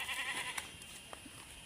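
A goat bleats on a farm, a few short wavering cries over steady outdoor background, fairly faint and without talk.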